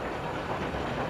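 A passing train of the Atlanta & Saint Andrews Bay Railway, a Christmas excursion run in 1989, heard as a steady, fairly loud broadband rumble with rail noise, close by, with no talking.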